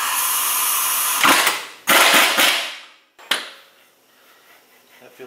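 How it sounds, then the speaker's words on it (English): An impact wrench with a 33 mm socket snugs down the pinion nut on a Jeep Wrangler axle during a Yukon 4.88 gear install, firing a few short, loud rattling bursts close by, followed by quiet. "we're just gonna snug down with the impact and a 33 millimeter socket,"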